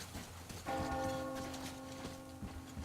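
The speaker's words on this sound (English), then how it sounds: "Do you hear that bell?" A bell tolls once in the game Metro Exodus, a sudden struck note with a bright, ringing overtone that hangs and slowly fades over a soft rain-like background hiss.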